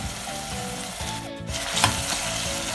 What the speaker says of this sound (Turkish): ilave ettim ve soğanımla beraber onu da kavuruyorum.